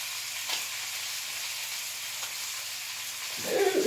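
Bacon fries in a pan with a soft, steady sizzle over a low background hum, and a louder crackling burst near the end.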